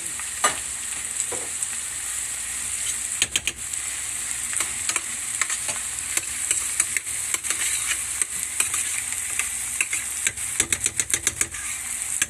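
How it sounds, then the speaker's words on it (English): A pan of plain tomato sauce bubbles and spits on the stove with a steady low sizzle, cut by quick clicking pops and spoon taps that come in bursts near the end. "We're going to let that simmer a little bit."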